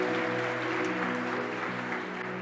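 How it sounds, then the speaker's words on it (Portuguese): A church congregation applauding for Jesus during a Portuguese-language sermon, a steady wash of clapping with a sustained tonal hum running underneath throughout. "Você pode dar o melhor aplauso hoje para Jesus?"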